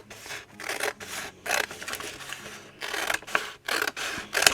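Scissors snip through craft packaging in a series of close, crisp rasping cuts, several strokes with short pauses between them, with no talking.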